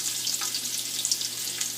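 Butter with cinnamon sticks, peppercorns, spices and chopped onions sizzles steadily in a pan for a mutton stew, a continuous close frying hiss with small crackles and no voices.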